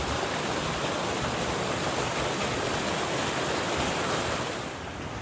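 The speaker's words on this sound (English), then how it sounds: "It's one of the few side creeks coming in so far." Side creek pouring down into a rocky canyon on a bushwalk, a steady broadband rush of water that stays loud and unbroken throughout, easing slightly near the end.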